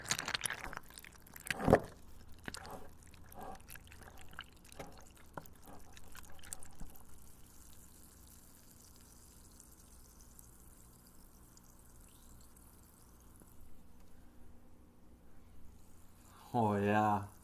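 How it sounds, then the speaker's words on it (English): Milk kefir curds and whey being stirred close to the microphone, wet squelching, dripping and sloshing sounds that grow sparser, ending with a louder burst of a voice at the end. "So I'm gonna mix this up. I'm gonna mix the curds and whey up"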